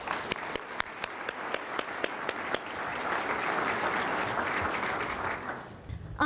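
An audience at an annual seminar breaks into steady applause welcoming Regina Holliday, with a few distinct claps at first swelling into a sustained wash that fades near the end.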